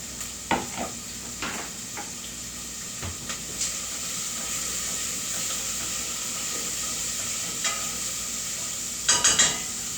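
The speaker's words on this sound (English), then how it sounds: "We want to saute our onions. Hear that sizzle?" Onions sautéing in a hot pan, giving a continuous close sizzle with scattered crackles and a few sharper pops, including a cluster of louder spits near the end.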